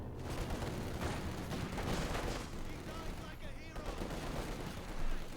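MP40 submachine guns firing in a Company of Heroes 2 match, dense bursts of gunfire and distant explosions forming a constant battle din, with someone commentating over it.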